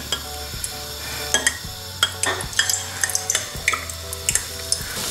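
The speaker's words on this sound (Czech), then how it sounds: "Tak tady se nám už pěkně smaží první ta kulička." Onion bhaji balls in onion-and-batter mix dropped into hot oil and frying, a steady sizzle with stirring scrapes and light clinks of utensils against the pan, close by with no talk.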